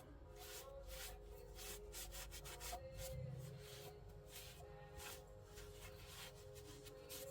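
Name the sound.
rag rubbing wax off chalk-painted furniture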